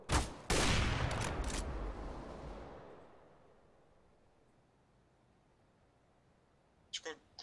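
Gunfire from the video game CS:GO: a loud burst of shots opens, followed by a long fading reverberant tail, then a couple of faint, sharp shots near the end.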